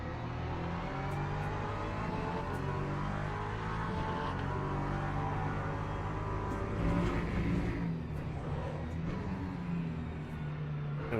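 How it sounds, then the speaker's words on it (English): LMP2 prototype race cars at the Algarve circuit: a steady, loud engine drone with rising and falling revs, swelling as the cars draw closer and pass, with no voices. "Oh god, we've got LMP2s coming as well."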